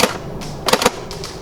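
A Tokyo Marui AA12 airsoft automatic shotgun fires on semi-automatic outdoors, giving a couple of quick, sharp cracks close by over steady background noise.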